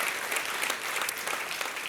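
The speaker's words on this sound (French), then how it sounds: "Ceux qui sont d'accord, applaudissez bien fort avant que j'aille plus loin." A church congregation applauding loudly, a dense, steady wash of many hands clapping throughout, close and full with no voices standing out.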